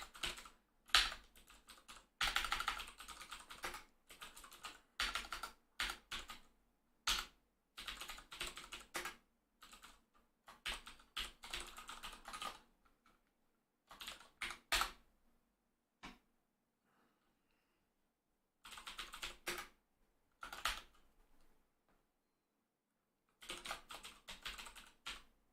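Steady bursts of clicking on a computer keyboard while Python code is typed, rapid runs of keystrokes broken by short silent pauses, close and moderately quiet with no voices.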